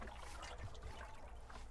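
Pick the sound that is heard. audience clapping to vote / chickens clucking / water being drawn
water being drawn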